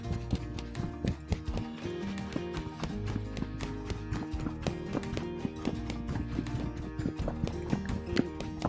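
Horse hooves clip-clopping steadily as the horse shifts gaits during a riding session, moving from trot up into a few canter strides, with a continuous loud rhythmic beat and occasional snorts.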